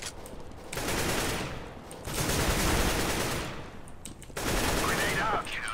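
Rapid gunfire from a Counter-Strike competitive match: dense volleys of shots in three sustained stretches with short lulls between, loud and close throughout.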